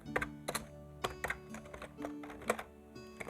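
Rapid keystrokes on a computer keyboard as code is entered in a Clojure editor, irregular clusters of close, crisp clicks and taps with brief pauses between bursts.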